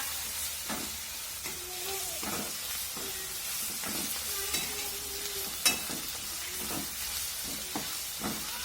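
Spices and curry leaves sautéed in a pan for dal tadka, a constant frying hiss broken by regular scraping strokes of a spoon, close and moderately loud, with one sharper clink partway through.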